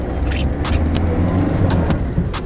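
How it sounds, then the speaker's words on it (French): A car on the road in France, steady engine rumble and road noise close by from inside or beside the vehicle, with faint clicks over the continuous drone. "C'est parti, on retourne dans la voiture."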